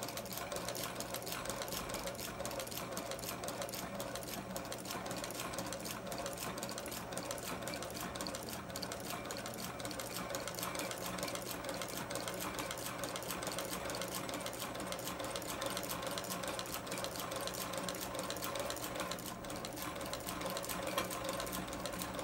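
A sewing machine stitches tractor-style motorcycle seat upholstery, its steady mechanical whirr running continuously and close throughout with no pauses or talk.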